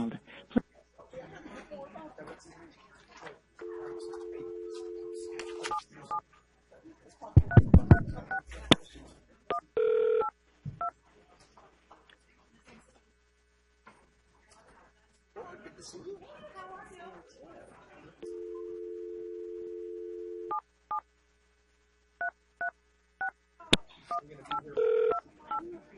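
A telephone number is dialed with DTMF keypad tones: two sustained tones and several short beeps come through clearly, while people chatter and chuckle in the background.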